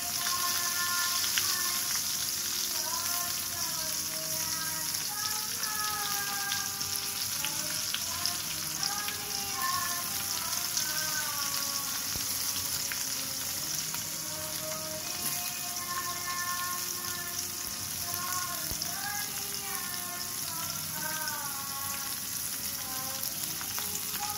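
Onion, chili, ginger and garlic sizzle and crackle in a hot pan of oil, a steady, dense frying hiss that runs unbroken, with faint scraping and stirring sounds.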